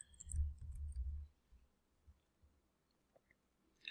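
Computer keyboard typing: a low handling thump at the start, then a few faint, sparse key clicks spaced out over a quiet room.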